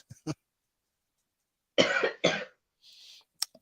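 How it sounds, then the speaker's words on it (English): A few dry coughs: two quick ones at the start, then a louder pair of harsh coughs, followed by a faint breathy exhale and a small final cough. "that cough's getting worse"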